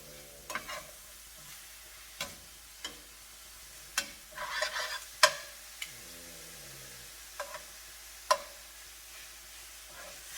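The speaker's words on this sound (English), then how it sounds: "let's saute this around a little bit" Gyro bowl ingredients seasoned with paprika are sautéed in a pan: sparse, quiet knocks and scrapes of a utensil come every second or two, with one brief burst of sizzling in the middle.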